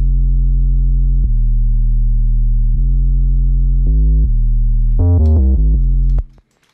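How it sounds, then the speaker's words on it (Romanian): A deep, loud bass line for a trap beat holds long sustained low notes, then shifts into quicker gliding steps near the end before fading out, alone without speech. "Avem acest bas."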